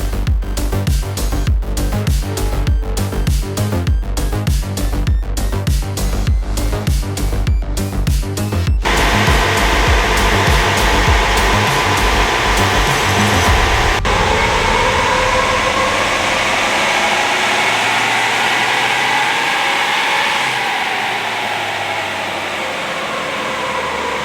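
Diesel engine of a Toyota N80 Hilux pickup running hard on a dyno, a loud pulsing drone that shifts midway into a smooth sustained roar and then a rising whine, with no talking.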